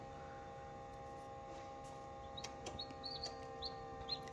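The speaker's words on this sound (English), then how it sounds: "This breed is a Red Jungle Fowl." Red Jungle Fowl chicks give a few faint, scattered high chirps and peeps over a steady background hum, growing slightly busier toward the end.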